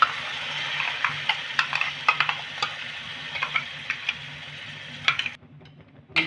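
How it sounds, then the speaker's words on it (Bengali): Grated carrot stirred in melted ghee in a pan over low heat: a steady soft sizzle with repeated sharp spoon scrapes and taps against the pan at an irregular rhythm, close by. "ঘিয়ের সাথে ভালো করে গাজরটাকে মিশিয়ে নিলাম।"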